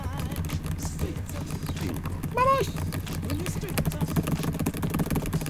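A computer keyboard being typed on, with a rapid run of sharp, dry clicks that continue throughout, close to the microphone and mixed with a brief voice-like sound and other background noise.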